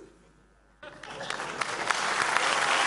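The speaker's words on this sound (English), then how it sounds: "don't applaud me, applaud the MPAA" Audience applause starts abruptly after a brief quiet moment, then swells into a steady, dense clapping from a sizable crowd that keeps building to the end.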